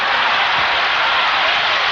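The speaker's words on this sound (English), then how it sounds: "the crowd's coming back to life" A packed basketball arena crowd roars during North Carolina versus Florida State on 2008 Senior Night. The noise is a loud, steady, dense wall of cheering with no distinct voices.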